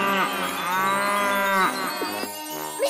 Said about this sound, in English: Can you echo back the sound of the cows, Mr. Echo?